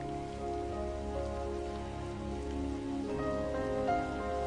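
Steady rain patters on a surface throughout, soft and even, mixed under orchestral music from the New World Symphony's second movement, with no one talking.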